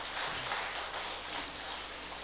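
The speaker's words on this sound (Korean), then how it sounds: "이분들도 격려의 박수 한번 해주시기 바랍니다" Church congregation applause of encouragement during a Sunday morning service, a faint, distant, steady patter of clapping that lasts a couple of seconds.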